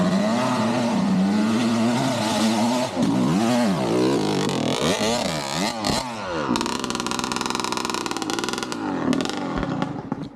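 A dirt bike engine roars and revs continuously on the trails of an adventure park in Kentucky, loud and close, climbing and falling in pitch as the rider accelerates and shifts.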